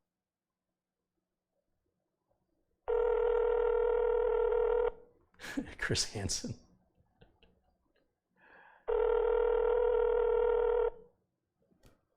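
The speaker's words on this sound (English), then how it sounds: "I guess they're not answering the phone." A telephone rings out unanswered during a call to a suspected phone scammer, two long electronic ring tones separated by a pause in which someone briefly speaks, followed by quiet line noise.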